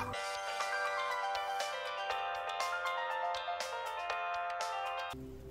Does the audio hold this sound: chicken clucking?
no